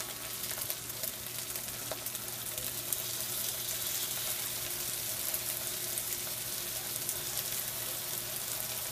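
Rice stir-frying in a pan with sesame oil and soy sauce for a Japanese-style stir fry, an even, steady sizzle with faint clicks of stirring throughout, close by with no talking.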